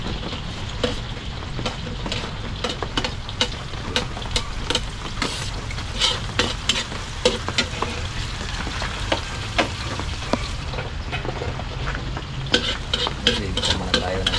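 Onion and garlic sautéing in a hot pan, a continuous sizzle and frying crackle with frequent scraping stirs of a utensil against the pan throughout.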